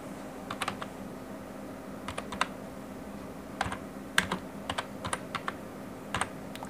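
Someone types on a computer keyboard in short, irregular bursts of crisp key clicks over a low steady hum, with no speech.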